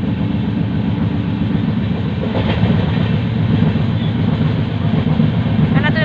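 A passenger train on a long journey toward Kolkata rolls steadily, with a loud constant rumble and rhythmic clatter of wheels over rail joints heard from inside the carriage, and voices faintly present.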